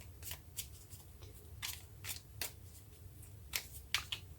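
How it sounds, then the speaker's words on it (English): Tarot card shuffling heard as a series of quick riffling bursts, irregular and close, with a low steady hum underneath. "Let me stop and shuffle them one more time."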